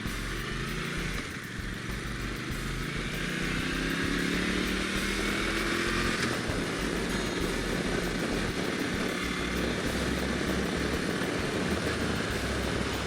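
A 2011 Moto Guzzi Norge GT 8V motorcycle is ridden at speed toward a freeway, its engine droning steadily under heavy wind rush, loud and continuous throughout.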